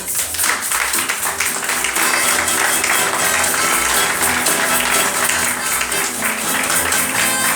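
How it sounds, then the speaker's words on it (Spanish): An audience applauds at a surf-rock band's performance during a group gathering, scattered clapping heard over loud music with a thumping low rhythm, the claps blending into the busy mix. "Un aplauso para Pepe, por favor."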